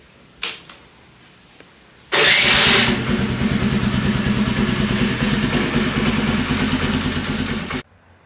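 A Honda Navi scooter-style motorcycle, just serviced with new oil and spark plug, is started with a brief whir and then catches and settles into a steady, loud idle that runs for several seconds before cutting off, with no talking.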